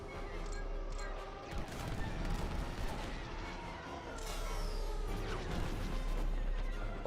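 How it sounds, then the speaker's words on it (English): Blaster fire strikes a starfighter during a Star Wars space-combat game, a dense, continuous barrage of crackling impacts and booms layered over a steady engine roar, loud and sustained throughout. "I'm getting shot in the butt again"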